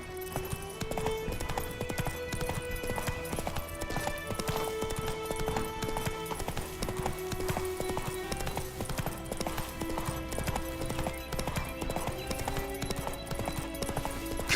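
Hooves of the horse Roach trot steadily throughout in The Witcher 3 video game, a continuous clip-clop rhythm mixed with game music and ambience, with no talk.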